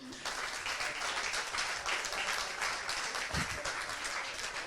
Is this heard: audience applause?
yes